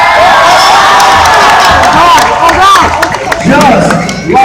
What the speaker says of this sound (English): Come on, young people, make some noise!